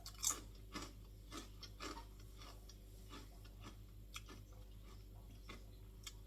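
Repeated crisp crunching bites, quiet and close, spaced roughly every half second over a steady low hum, with no talking.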